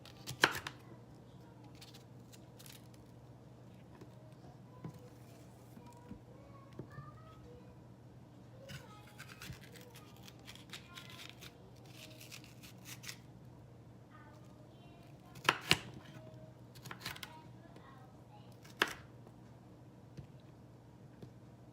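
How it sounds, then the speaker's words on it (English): A knife cutting a pepper on a board in a home kitchen, with sparse soft chops and a few sharper knocks spread over a quiet low hum. "Then I cut it in half, and I cut the bottom off here."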